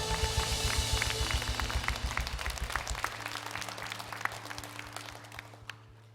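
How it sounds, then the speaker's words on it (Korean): A church congregation applauds during a Sunday worship service while sustained instrumental music plays, the clapping a dense patter that gradually fades. "박수로 모든 영광 올려드립니다."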